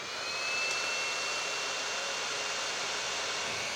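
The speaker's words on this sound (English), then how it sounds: "So I'll introduce a little bit of hot air, maybe around 200°C." A hot air tool blows steadily at around 200°C onto a label on a dead Betso timecode box, a constant close, even hiss with no pauses or voices.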